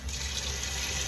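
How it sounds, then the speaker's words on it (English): Water is poured into a pressure cooker to top up a braising ham hock with cider, a brief, steady splashing gush with no talk. "I'm going to top that up with water"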